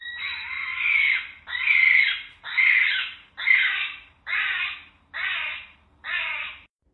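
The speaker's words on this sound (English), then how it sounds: "For our final bird sound, that was the kiwi, endemic to New Zealand, so only found there." A kiwi, the New Zealand bird, gives a loud, close screaming call: seven harsh, rasping shrieks at an even rhythm, each about half a second long and separated by short pauses, with no other sound.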